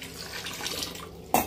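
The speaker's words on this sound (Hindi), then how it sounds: "आज ये पूरा आरओ का पानी निकाल के फ्रेश भर रही हूँ" Water running from the tap of an RO water purifier, draining old stored water into buckets at home; a steady, close hiss of flow that swells briefly louder near the end.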